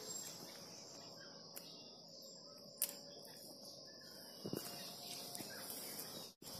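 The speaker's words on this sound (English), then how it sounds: "So guys, listen to these beautiful birds chirping and" Birds chirp in a thickly forested hillside area near Bhimtal, with scattered high calls standing out over a steady insect and cricket drone, moderately faint and without talk.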